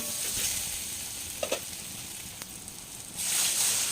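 Chili, cumin and turmeric powders cook in oil for a tilapia curry, a moderate steady sizzle with a couple of small clinks from stirring, swelling louder near the end.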